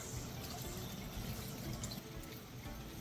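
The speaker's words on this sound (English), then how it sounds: "This is just to flush your tank." Water rushes through an RV holding tank during a flush, a faint, steady gurgling and splashing flow with a few brief clinks and no speech.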